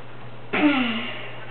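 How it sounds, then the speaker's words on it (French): A single short, nasal bleat of a sheep in Minecraft sounds once, abrupt and fairly close, over a faint low hum. "Oh, des moutons."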